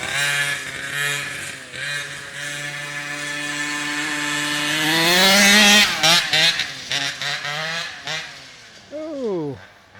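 A Rovan 450 XLT short course RC truck with an OBR 47cc case-reed two-stroke engine buzzes close by, its pitch climbing steadily as it comes up on the pipe, then dropping and blipping in short revs.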